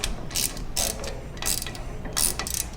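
A ratchet clicks in four quick bursts while screwing down a Trektop Ultra soft top on a Jeep Wrangler JLU Rubicon, each burst a short run of crisp metallic ticks, close and fairly quiet.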